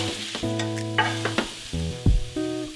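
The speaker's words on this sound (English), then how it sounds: "So I'm going to saute the mushroom now." Sliced mushrooms sauté in a hot pan for a bacon, mushroom and cheddar frittata, giving a close sizzle with stirring and scraping bursts and no talk.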